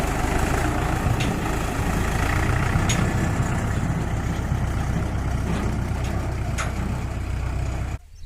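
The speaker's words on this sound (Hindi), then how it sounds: "ट्रैक्टर लेके हम मकई के खेत में आ चुके हैं।" A tractor engine runs steadily in a maize field, a loud, close, continuous idling rumble that cuts off abruptly near the end.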